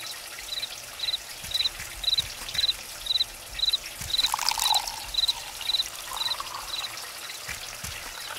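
Water poured into a bottle in a fairy-tale game: a gentle, continuous pouring trickle, faint and close, with a soft rhythmic chirping going on behind it.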